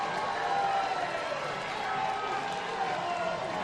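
A college baseball crowd of Alabama State fans cheers steadily after a two-run home run cuts the Crimson Tide's lead in an NCAA Championship game, a sustained roar of voices lasting throughout.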